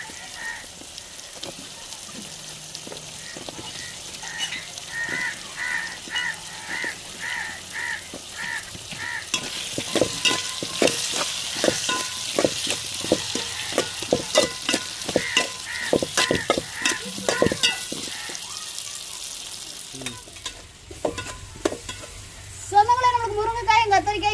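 Cut eggplant and drumstick fry in oil for a dried-fish curry. A steady sizzle runs under repeated scraping stir strokes, and a voice and louder call-like sounds break in near the end.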